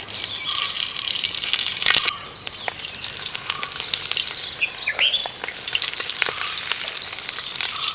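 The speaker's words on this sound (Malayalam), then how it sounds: "കുറച്ച് എണ്ണ ഒഴിച്ചിട്ട് നമ്മളിത് ഇതിനകത്തോട്ട് നമ്മൾ പൊതിഞ്ഞെടുത്ത് മീൻ വെച്ച് കൊടുക്കുകയാണേ" Karimeen fish wrapped in banana leaf fries in oil in an uruli, a steady close sizzle with crackles and a few sharp spatters, faint birdsong in the background and no speech.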